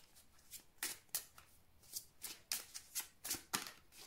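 Tarot cards are shuffled close by in a quiet room, making a series of soft, crisp riffling and sliding bursts in an uneven rhythm, with no talking.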